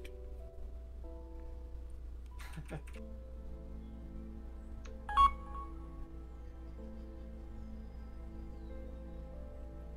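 A phone notification plays a short run of electronic tones, like an alert from an old messaging program, over a steady low hum in a quiet room.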